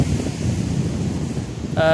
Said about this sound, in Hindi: काफ़ी गर्मजोशी के साथ लहरें जो हैं वो किनारों की तरफ फेंक रहा है।